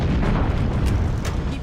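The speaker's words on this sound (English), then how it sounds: "That should be enough to trigger a wildcat explosion of the engines." A massive engine explosion in Halo CE, a deep, loud rumbling boom that fills the whole clip with no speech over it.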